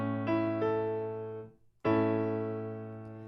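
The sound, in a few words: closed position chord, a sixth between tenor and soprano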